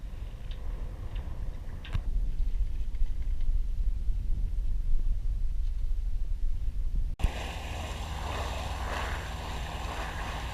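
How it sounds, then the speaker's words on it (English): Chain ferry crossing to Cowes heard from a small sailboat, with a continuous rumble of engine and water, a sharp knock, then a brighter rushing wash of wind and water. "So we're getting the chain ferry across to Cowes"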